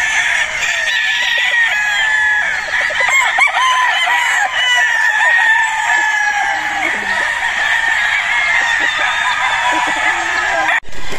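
Battle stag roosters crowing on a farm in the Philippines: many birds crow loudly and continuously, calls overlapping into a dense, close chorus with scattered clucks underneath.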